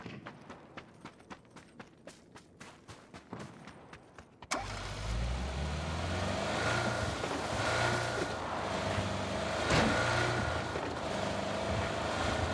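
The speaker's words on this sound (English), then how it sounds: "The SEMA is a better car for this." A car engine in the PUBG battle game kicks in abruptly partway through and then runs loud, close and steady with a rising and falling drone, after a stretch of rhythmic footstep-like clicks.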